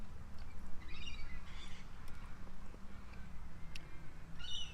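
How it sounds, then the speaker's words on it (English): Galahs, magpies and lorikeets call in an Australian park: a few scattered, fairly faint chirps and squawks over low background rumble, with no talk. "We've got galahs here, we've got pigeons, we've got magpies, we've got everything in this park."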